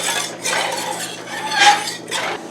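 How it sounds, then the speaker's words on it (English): A spoon stirs salt into a pot while rice is being cooked, giving a few scraping, clinking passes against the metal pot in separate bursts, close and fairly loud with no voices. "Give it a stir."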